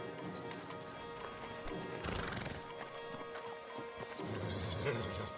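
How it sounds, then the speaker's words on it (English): Horse hooves clip-clop in a steady trot while horses neigh and whinny, with game-like ambient sounds and brief background voices, from the video game Red Dead Redemption 2. "Javier, you're gonna lead the stallions."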